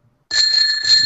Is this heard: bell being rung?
yes